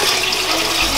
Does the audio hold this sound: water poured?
yes